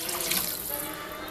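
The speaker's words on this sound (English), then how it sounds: "We're going to be adding the water." Water pours steadily from a tap into a pot for Korean radish soup, a continuous close rushing splash with no talk over it.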